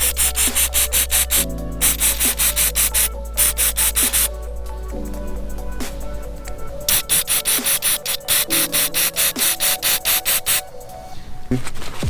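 Repeated rubbing and scrubbing strokes as a filthy old gasket is cleaned off a Subaru engine part, a steady rhythmic scraping that runs through most of the stretch, close and fairly loud, with brief pauses.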